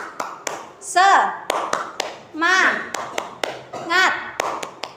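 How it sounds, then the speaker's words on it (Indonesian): Schoolchildren in a classroom perform a rhythmic 'tepuk semangat' clapping chant, sharp claps in a patterned beat alternating with short bursts of group chanting voices. "Yuk bareng-bareng tepuk semangat."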